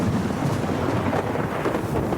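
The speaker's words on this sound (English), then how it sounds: "Querry stands, listening to the thunder, waiting for the lightning as the sky darkens" Thunder rumbles in a radio drama sound effect as the sky darkens, a loud, sustained low roll with rain hissing underneath, no speech over it.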